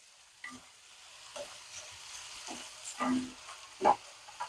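Bitter gourd pieces fry with jaggery in a kadai, giving a soft, quiet sizzle broken by a few short stirring scrapes and clinks spaced a second or so apart.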